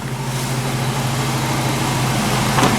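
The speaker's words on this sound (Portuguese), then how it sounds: "ainda tá aqui, galera, funcionando em marcha lenta" A VW Golf Mk3 engine idles steadily at warm-up, a continuous low, even rumble with a faint hum that holds level throughout, close by and with no talking.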